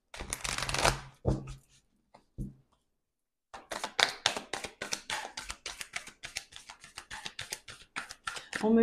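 Moon and oracle cards being shuffled by hand, with brisk riffles and a run of quick, close paper taps and flicks separated by a short silent pause, no talking.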